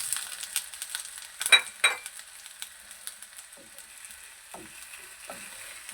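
French toast fries in a frying pan with a steady soft sizzle, broken by a few sharper crackles and light utensil scrapes.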